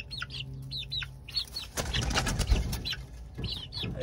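Asil chickens and young chicks cluck and cheep in quick, high bursts near at hand, with a rustle of flapping or scuffling midway.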